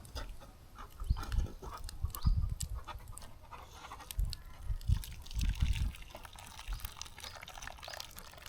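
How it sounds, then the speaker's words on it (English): Pasta cooking water is poured off the heat into a bowl, a splashing, gurgling pour that swells and fades in several uneven surges, fairly close and alone with no speech. "I'm going to take it off the heat and I'm going to drain the water off just over here"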